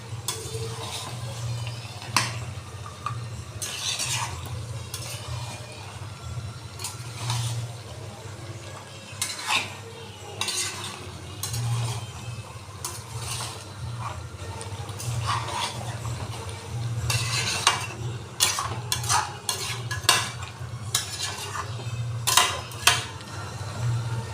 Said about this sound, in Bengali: আবার ঢাকনাটাকে খুলবো, আবার নাড়িয়ে দেবো।